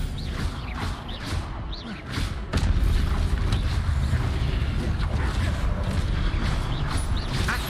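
Disarming-spell effect from the Hogwarts Legacy video game, with a rumbling magical boom and mechanical creaks and thuds. A heavy surge lands mid-clip and carries on as a dense, loud wash of effects.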